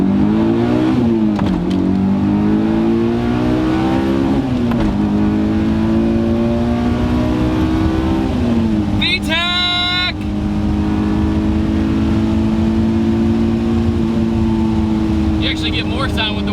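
Honda S2000 sports car engine revving as it is driven hard, a steady droning engine note rising and falling through the gears, heard from inside the cabin with a brief tire squeal or whistle and voices at times.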